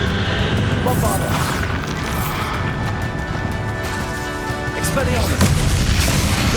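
Booming spell blasts from the Hogwarts Legacy wizard duel with Ranrock, a dense continuous barrage of explosive impacts and crashes with battle noise throughout, loud and close, with shouted incantations over the top.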